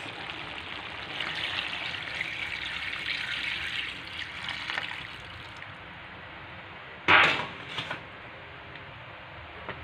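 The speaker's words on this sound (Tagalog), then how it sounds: "pwede na tayo magdagdag ng tubig para maluto" Water trickles and pours steadily into a pan of cooking adobo meat, a soft running hiss, followed by a brief sharper splash or clatter near the end.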